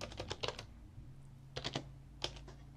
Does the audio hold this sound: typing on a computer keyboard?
yes